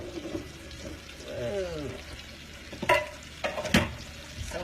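Scallops frying in a pan on medium-high heat, a soft steady sizzle with a couple of brief clatters and splashy bursts, close, under some quiet background sound.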